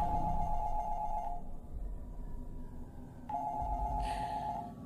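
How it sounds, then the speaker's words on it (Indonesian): An office telephone rings in two electronic trilling bursts separated by a pause, heard faintly over a dark, rumbling background. "Telepon di ruanganku lagi-lagi berbunyi."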